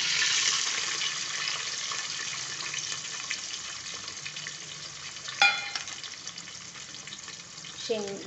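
Green chillies, curry leaves and onion fry in hot oil for a soybean pulao, giving a steady close sizzle with a brief clatter midway and a light stir near the end.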